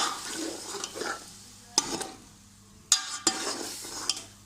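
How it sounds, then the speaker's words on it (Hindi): Ground masala being stir-fried for qorma, with scraping stirs and a few sharp utensil knocks against the pot over a light sizzle, close by and with no voices. "ये सारा का सारा इस मसाले के साथ अब इसे हम अच्छे से भून लेंगे।"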